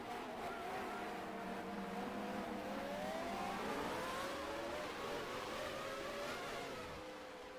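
A racing car engine in a Formula One video game drones loudly and steadily, its pitch rising and falling, then fades slightly toward the end as the engine cuts out, without any talking.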